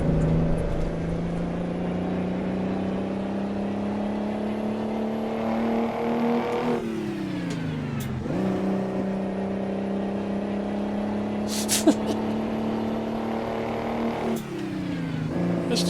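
Heavy trucks drive along a road and pass close by as a steady loud engine drone, with the pitch dipping and rising again at each pass. A long trailer is hauled behind. There is no talking.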